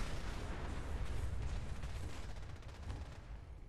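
Sustained explosive rumble and crackling gunfire in the Fallout 4 video game, dense and continuous with no speech, loud and close throughout.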